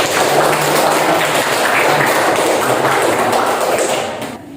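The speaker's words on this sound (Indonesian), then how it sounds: "tepuk tangan buat Khairunisa." Schoolchildren in a classroom applaud a classmate, loud and dense clapping that fills the room steadily before dropping away near the end.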